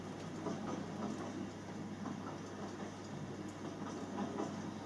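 Train running at full steam in a drama scene, a steady low rumble with faint rhythmic clatter of the carriage held at a constant moderate level throughout, with no voices.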